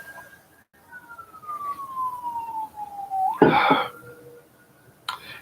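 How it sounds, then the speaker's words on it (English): Police sirens wail from a distance outside, the tone sliding slowly downward before a burst of noise cuts in, then fades against a quiet indoor background. "Take a moment for the sirens."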